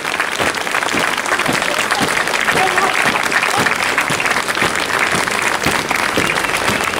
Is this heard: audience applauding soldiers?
yes